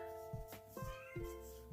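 A cat meows indoors, several short harmonic calls in a row, quiet and close, with no talking over them.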